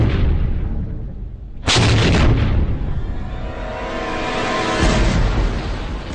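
Cannon fires on the gun deck of a British Royal Navy sailing warship: one loud, sudden boom lands close by, then a long rumbling decay and a noisy roar that lingers for several seconds.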